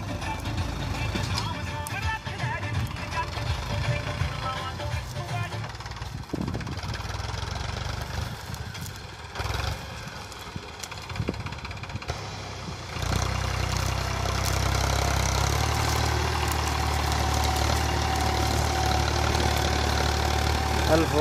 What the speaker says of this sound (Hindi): कल 4 गियर में जुताई हो रही है।